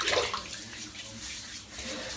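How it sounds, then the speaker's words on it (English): Cold water splashes and runs during a head shave, a short watery rush close by with no talk. "splash of cold water."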